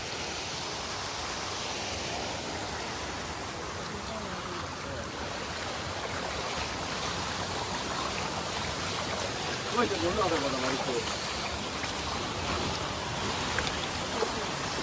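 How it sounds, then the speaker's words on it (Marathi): Water rushes over a small stream dam and its waterfall: a loud, steady broadband roar runs throughout, close by and continuous, with a brief faint voice partway through. "आता पाणी बघा एकदम जोरात खालचो धबधबो आता एकदम जोरात वाहत असतो"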